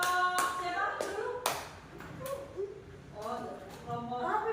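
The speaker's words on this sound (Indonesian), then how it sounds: "Tepuk tangan." A classroom of pupils clapping hands, a few separate bursts of claps mixed with children's voices and a teacher talking.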